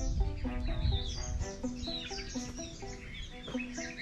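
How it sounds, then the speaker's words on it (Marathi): Birds chirp around Jarandeshwar Temple near Satara, several repeated bright tweets and calls overlapping in a lively chorus, moderately near and fairly quiet, with no talk. "एकदम पक्ष्यांचा किलबिलाट आणि एकदम थंड हवा"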